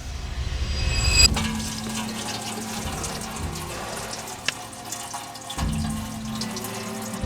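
Oil pouring out of an engine after the drain plug comes out, a steady trickling, splashing stream into a pan, louder at first and then settling to a continuous flow.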